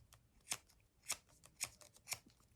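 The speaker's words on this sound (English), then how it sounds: "I will cut in the groove of the pom-pom maker" Scissors snip through yarn in the groove of a plastic pom-pom maker, four crisp cuts spaced about half a second apart, close and quiet with no talking.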